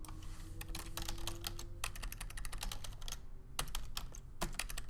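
Rapid, uneven bursts of keystrokes on a computer keyboard, close and clear with no talking, pausing briefly near the middle before resuming.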